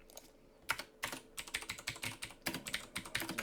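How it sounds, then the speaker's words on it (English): Computer keyboard typed on during an EverQuest gaming session, quick close clicks in uneven bursts after a short pause, crisp and moderately loud with no talking. "I'd also like to introduce my keyboard."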